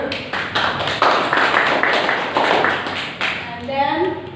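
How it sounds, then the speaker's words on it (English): Children in a classroom clapping for a classmate during a lesson on ingredients for beef rendang, a steady run of quick claps through most of the clip before a voice begins speaking near the end. "Give applause to her."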